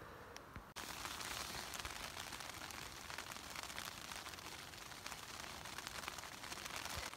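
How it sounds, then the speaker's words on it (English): Light rain pattering on trees in a forest by a lake, a steady soft hiss of drops that starts abruptly after a brief quiet moment and continues evenly, faint and close. "It is raining a little bit, I think."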